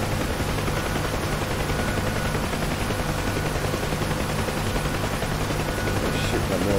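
Helicopter rotor and engine drone of a Huey in the DCS flight simulator, with bursts of machine-gun fire mixed into the steady, loud, continuous noise; no clear speech.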